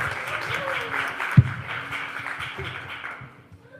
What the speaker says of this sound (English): please give a warm round of applause once again